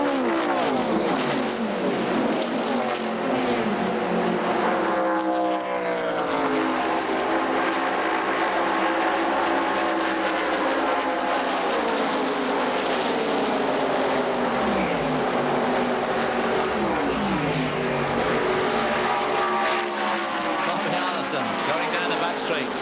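Stock cars roar past at high speed in the 1981 Daytona 500, a dense continuous engine drone with rising and falling pitch sweeps as cars pass, loud and unbroken, with a commentator talking over it.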